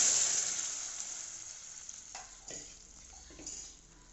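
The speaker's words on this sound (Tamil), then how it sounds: "வெங்காயம் வதங்கியாச்சு வேக வச்ச கீரை கீரை தண்டு அதில் போட்டேன்" Boiled greens and their stems sautéing with onions in a pan, a fairly quiet sizzle that starts strong and gradually fades, with a few light stirring scrapes.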